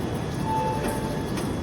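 A train running at night, heard from inside as a steady loud rumble and rattle of the carriages with a constant mechanical hum.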